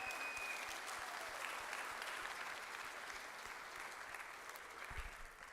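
Sustained applause from a large audience at a spring school play, dense steady clapping that stays fairly even throughout, heard from a distance.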